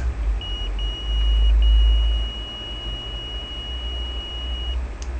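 A multimeter sounds a continuity-test beep, a thin steady high tone held for several seconds with two brief breaks near the start, over a low background rumble.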